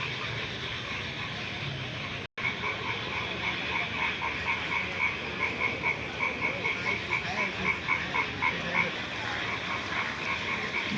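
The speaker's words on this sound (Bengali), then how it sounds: "আপনারা ব্যাঙ্গের ডাক শুনেন।" Frogs croak in a dense, steady chorus after heavy rain at a flooded roadside in Bangladesh, a continuous rhythmic pulsing mass of calls close by, with a brief dropout near the start.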